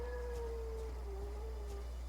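A dog howls at a passing fire engine in one long, wavering, fairly faint tone that dips and rises, over a steady low hum, with no talking.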